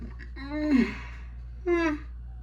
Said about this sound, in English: Excuse me if I'm yawning so much.